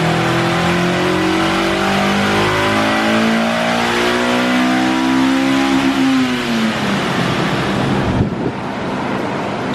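A stock Honda S2000 engine revs on a dyno during a baseline run, a loud sustained climb in pitch that rises smoothly for several seconds and then drops off sharply as the throttle closes.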